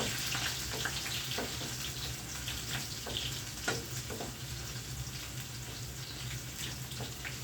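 Kanthari chilies frying in hot oil, a steady hiss of sizzling broken by scattered sharp pops and crackles as they splutter, close and continuous, no talking.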